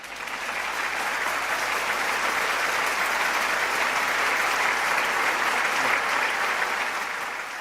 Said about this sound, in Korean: 한번 박수해 주시면 좋겠는데요.